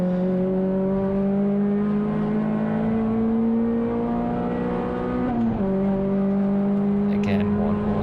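Clio race cars lapping Brands Hatch GP circuit in a touring car race, a loud sustained in-car engine drone holding high revs with a brief gear-change dip, close and continuous.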